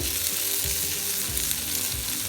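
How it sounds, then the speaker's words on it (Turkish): Steady crackling sizzle of meatballs, for eggplant-wrapped islim kebab, frying in a hot pan, continuous and close, with no voices. "Evet şimdi köftemizi kızarttık."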